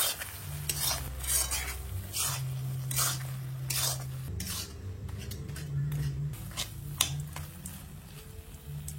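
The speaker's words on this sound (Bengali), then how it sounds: "ঢাকনাটা তুলে নিলাম, নাড়াচাড়া দিয়ে দেই।" Vegetables, banana flower with mixed vegetables, are stirred in a cooking pot over a gas flame after the lid is lifted, giving repeated scraping and clinking strokes of a spoon against metal over a soft sizzle, close and steady.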